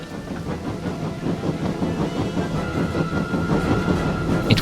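A railway engine pulls a train along the track with a rhythmic clickety-clack of wheels over rail joints and a faint steady hiss, close and continuous throughout.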